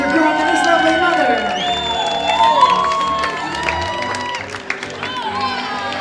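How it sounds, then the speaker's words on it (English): Wedding guests at a Huntington Beach celebration clap and cheer for the groom and his mother, with shouts and lively voices mixed into the crowd noise and music-like tones running throughout. "give a big round of applause"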